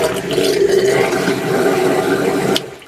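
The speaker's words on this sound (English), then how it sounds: "See that water coming in right there?" Steady rushing of water pouring in, loud and continuous, then cutting off abruptly near the end.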